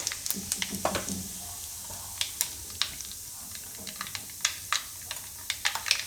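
Mustard seeds and cumin crackle in hot oil for Gujarati amla chutney, giving a soft background sizzle punctuated by scattered sharp pops and snaps.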